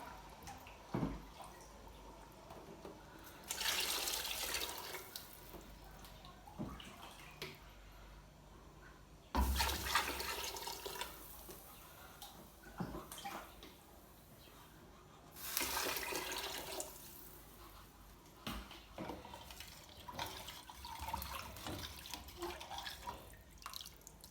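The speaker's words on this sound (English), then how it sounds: "So I'll add in water." Water poured into a cooking pot while making jollof rice, in three separate splashing pours a few seconds apart, with quiet gaps and faint clinks between them, heard close by.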